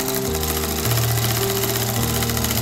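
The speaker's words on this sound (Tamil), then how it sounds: "அடுத்தது நம்ம எலாஸ்டிக் வச்சோன்னா கொஞ்சம் இழுத்துட்டு சென்டரில் ஒரு தையல் போட்டுக்கலாம்." A sewing machine stitches elastic onto a baby frock, running as a continuous close mechanical whir with a steady stitching pulse and shifts in motor pitch.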